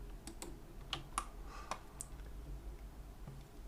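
Computer keyboard keys and a mouse clicking during 3D modelling work in Blender, a handful of crisp separate taps and clicks spread irregularly over a few seconds, close up and alone against a quiet background hum.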